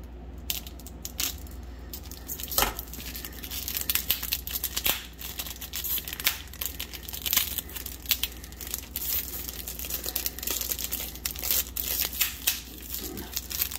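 A boxed Grenadier set being cut open and unwrapped, with continuous crinkling plastic wrap, tearing, rustling and occasional sharp snips and taps, close and busy throughout.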